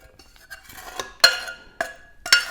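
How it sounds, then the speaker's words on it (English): Sugar syrup being stirred into bundi for Diwali ladoo, heard as several sharp utensil clinks against a pot or bowl among softer scraping and mixing, close and fairly loud, with no talking. "So what I'm going to do is mix the syrup"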